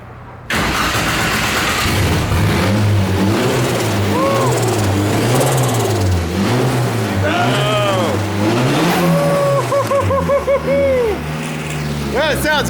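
An SR20 engine swapped into a cheap old BMW cranks, fires up and revs repeatedly, the pitch climbing and falling in loud, close blips over a steady idle, with voices talking in the background.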